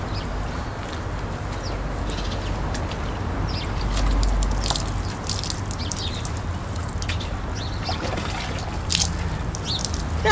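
Warm water trickles and runs steadily while a pet is bathed indoors, a continuous close splashing wash with a brief louder surge midway.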